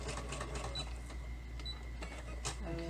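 A sewing machine runs steadily with a rattling mechanical whir and clicking, fairly close, with no talking.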